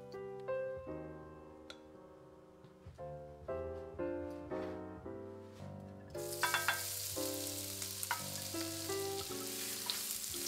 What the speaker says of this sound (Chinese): 先起个油锅，打散三个鸡蛋，炒散。